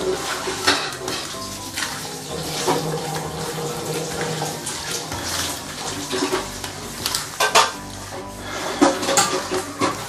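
Raw prawns are mixed by hand with seasoning for Nyonya assam prawns, giving wet, squelching, slapping sounds in an irregular rhythm close by, with occasional clinks against a bowl.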